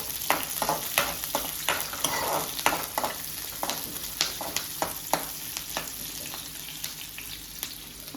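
A small chopped onion sizzles in a pan at close range, a steady frying hiss punctuated by regular clicks and scrapes of a spatula stirring, with no voices.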